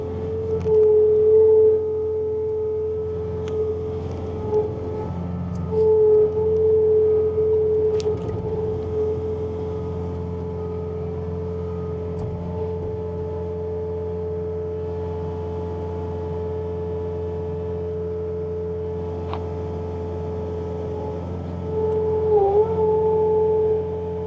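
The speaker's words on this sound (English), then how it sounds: "Alright, got the auger going, so now the chute works." A Bobcat T66 track loader with a snowblower attachment, its auger running, makes a loud, steady droning hum with a sustained whining tone on top. The pitch wavers slightly now and then, and no one speaks.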